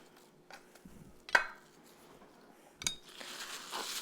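Fresh herb leaves roughly chopped on a cutting board after the thick stems are removed, heard as a few sharp knife knocks with quiet gaps between them and a brighter scraping stroke at the end.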